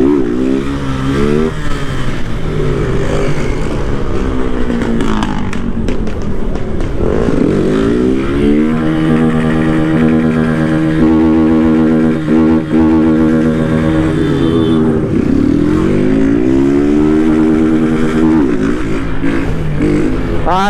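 A motorcycle engine revs loudly and repeatedly up close at a street race in Capão Redondo, rising and falling in pitch with each throttle burst over a steady idle.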